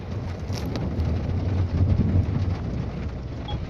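Heavy rain and strong wind on a cold night in France, a steady, dense low rumble and broadband hiss with gusty surges, continuous and fairly close, no voices.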